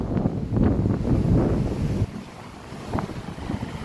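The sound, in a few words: strong wind by the water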